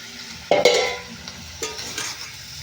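Fried brinjals for stuffed brinjal curry being gently stirred in a pan make a loud spoon scrape and clatter, then softer stirring strokes over a low sizzle.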